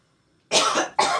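Two quick, harsh coughs close to the microphone after a moment of near silence, the second slightly shorter.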